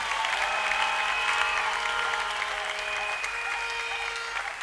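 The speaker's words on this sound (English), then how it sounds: "clap, clap to the glory of God." Members of a church congregation clap together in continuous, thick applause, with sustained tones ringing beneath the clapping as it carries on without pause.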